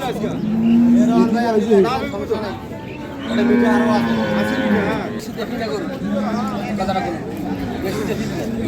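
A dairy cow, Jersey or Friesian crossbred, moos at the Ambari cattle haat, with two or three drawn-out lows heard close by amid market chatter and people talking nearby.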